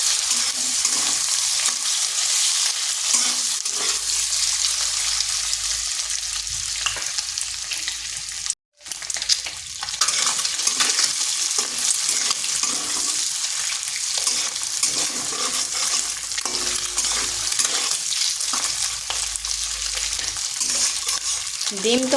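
Egg white sizzles and crackles steadily in a hot pan while it is stirred, a dense continuous frying hiss with a brief dropout partway through and no talking.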